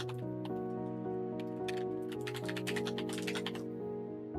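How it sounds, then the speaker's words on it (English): Rapid clacking of computer keyboard keys typed steadily at close range, the bursts denser toward the middle, over a sustained tonal music bed with no talking. "And this keyboard sounds for ASMR."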